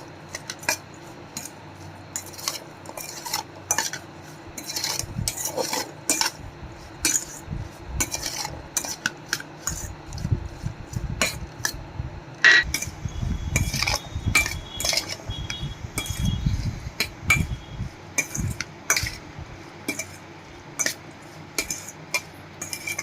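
A spoon mixes masala corn with red chilli powder and lemon juice in a bowl, giving repeated close clinks and scrapes of metal on the dish in an irregular, busy rhythm.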